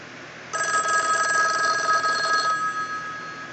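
A real rotary telephone's mechanical bell rings in one continuous two-second trill, a bright, close metallic clatter that stops abruptly, leaving a quiet room.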